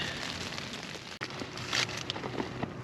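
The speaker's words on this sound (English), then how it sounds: "It's raining out there pretty good." Steady rain falls outside a stealth camping spot in abandoned prison farm ruins, a broad continuous patter with a few brighter drop hits, moderately loud and alone without talk.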